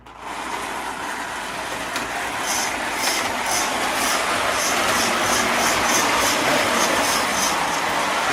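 A Lionel 4-4-2 steam model locomotive runs along its track with a continuous, fairly loud rolling rumble and metallic whir, holding steady and alone for several seconds.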